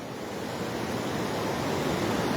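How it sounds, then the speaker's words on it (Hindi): The Kosi river rushes through the Kosi barrage as a continuous broad roar of churning water, steady and unbroken from start to finish, with no voices. "कोसी बराज पर कोसी नदी के बढ़ते जलस्तर से हम रूबरू कराते हुए आपको यह पानी जो अपने भारतीय क्षेत्र में जाती है"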